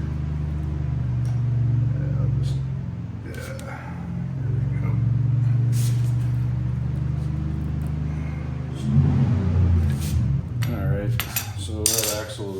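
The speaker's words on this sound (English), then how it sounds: "Excuse my neighbor in the background revving his truck." A neighbor's truck engine revs and rumbles steadily in the background of a residential street, low and continuous with swells, while metallic clinks of tools on a YZ250X dirt bike axle sit in front.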